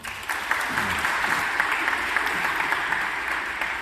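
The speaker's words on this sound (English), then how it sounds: "We've got lots and lots of applause and we haven't done anything" Audience applause at a public discussion on artificial life and designer babies, a dense, steady patter of many hands clapping at moderate loudness throughout, with no talk over it.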